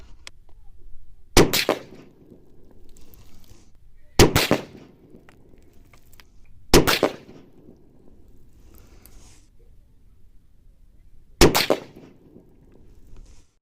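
A precision rifle firing handloaded ammunition lets off four loud, sharp reports spaced a few seconds apart, each with a short echoing tail over a low outdoor background.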